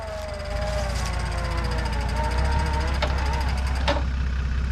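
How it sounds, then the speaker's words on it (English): An off-road vehicle's winch pulls in on a steep Erzberg extreme hill climb, a steady mechanical drone with engine rumble beneath, rising a little partway through, with a few brief clanks near the end. "okay, winch in"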